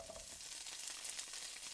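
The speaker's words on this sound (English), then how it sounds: "What y'all hear sizzling now is just some onions" Onions sizzling in a frying pan: a brief, faint, steady hiss and crackle of frying with no voices.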